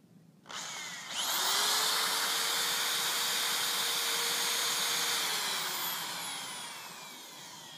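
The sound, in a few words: power drill drilling a pilot hole in wood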